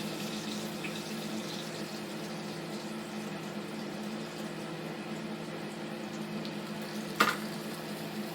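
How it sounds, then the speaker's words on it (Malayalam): About four tablespoons of cooking oil go into a pan already holding oil from frying chicken, making a quiet, continuous hiss that holds evenly throughout, with one short click near the end. "ഒരു 4 ടേബിൾ സ്പൂൺ ഓയിൽ ഇതിലേക്ക് ഇടുക. ഈ ചട്ടിയിലേക്ക് ഒഴിച്ചു കൊടുക്കുക."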